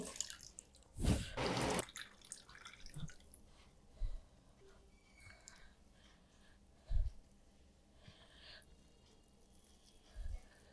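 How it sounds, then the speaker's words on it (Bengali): Water dripping and splashing from a thin cloth being squeezed out by hand, a few separate close spatters and drips over a quiet background. "এই চিপে পানিটা অবশ্যই ফেলে দিতে হবে"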